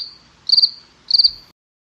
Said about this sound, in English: Crickets. I said crickets.